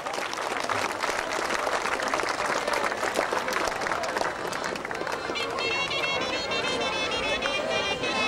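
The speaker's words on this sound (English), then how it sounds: "let's give it an applause, jedan pljesak za Balun" An audience at the opening ceremony of a European youth chess championship breaks into sustained applause, a dense, steady roll of many hands clapping that continues throughout with faint crowd murmur mixed in.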